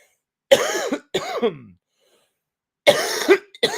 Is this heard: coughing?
yes